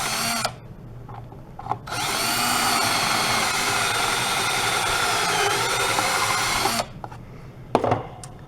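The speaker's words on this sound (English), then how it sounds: "then we drill through the second hole" A power drill whines loudly in one long sustained burst through wood, preceded and followed by short spurts and bumps of handling noise.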